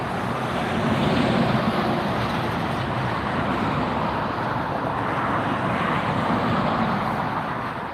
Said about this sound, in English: we have Southwest taxiing up